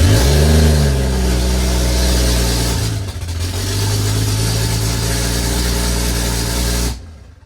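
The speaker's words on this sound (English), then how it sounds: "I'm gonna start the car without any exhaust," A BMW F10 engine running with no exhaust fitted, roaring loud and close as it revs up sharply at the start, holds a raw steady drone, dips briefly, then cuts off at the end.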